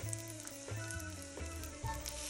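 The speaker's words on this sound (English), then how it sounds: "you can hear it starting to sizzle" Onion sizzles in hot oil with a steady close crackle and a few soft pops, no talk.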